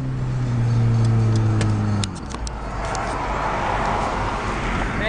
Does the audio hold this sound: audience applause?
no